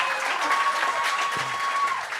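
A studio audience at a comedy gong show claps in a brief, dense burst of applause that holds steady, then begins to ease off at the end.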